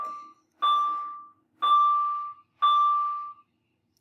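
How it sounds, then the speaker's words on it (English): A school bell rings in three long, even bursts with short gaps between them, loud and close, with a bright metallic tone and no voices over it. "Sorry about that bell."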